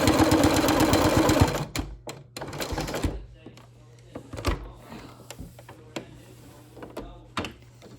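A sewing machine stitches a pinwheel quilt in a brief rapid run of needle chatter, then falls to scattered mechanical clicks and clunks as the quilt is turned, close by, with a voice talking over it.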